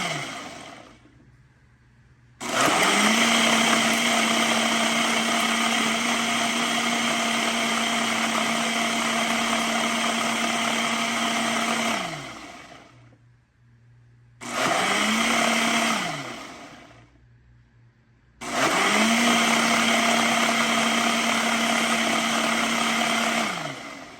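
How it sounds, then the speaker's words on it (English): A Ninja Auto IQ kitchen system blender mixes a protein shake, its motor roaring loud and steady in three bursts of about ten, two and six seconds, with brief silent pauses between them and each burst spinning up and winding down. "this particular blender is the Auto IQ kitchen system from Ninja"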